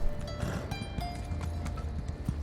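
Horse hooves clip-clop in the video game Solstice as mounts move near a graveyard by a manor, a quick close stepping rhythm over a low ambient bed.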